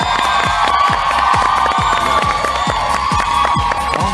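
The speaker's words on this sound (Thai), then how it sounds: "ขอเสียงปรบมือต้อนรับคริสพีรวัฒน์และสิงโตปรัชญาครับผม" A studio audience on a Thai talk show claps and cheers loudly for two arriving idol guests, with rhythmic clapping pulses and shouting over music.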